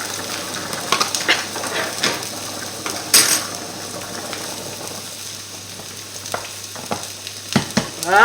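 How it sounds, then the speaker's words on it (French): Mashed potato purée bubbling and sizzling quietly in a pan, a soft steady frying hiss broken by occasional clinks of a utensil against the metal pan and a few sharp scrapes, no voices. "notre purée de pommes de terre cuit tranquillement"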